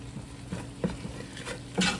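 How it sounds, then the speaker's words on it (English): Close, steady stirring of flour into homemade creamy potato soup in a pot, with a few scraping knocks of the utensil against the pot over a soft bubbling bed. "And stir it up till it blend in good."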